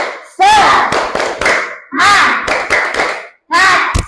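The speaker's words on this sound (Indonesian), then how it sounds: "ayo berdiri dulu, kita tepuk semangat" A school class stands and performs a rhythmic spirit clap in Indonesian style, three loud bursts of group clapping mixed with children's chanted voices, close and energetic with short pauses between.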